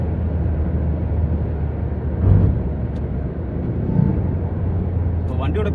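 A Maruti Suzuki Ignis car accelerates on the road at around 100 km/h, heard as a steady low engine and road rumble from inside the cabin, with someone talking over it.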